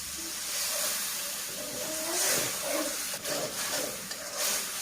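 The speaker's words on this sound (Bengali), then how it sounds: "এবার মশলাটা ভালো করে ভেজে নেব।" Spice paste of chilli powder, turmeric, coriander, cumin and salt frying in a pan, a steady close hiss and sizzle with occasional stirring scrapes, fairly loud and uninterrupted by talk.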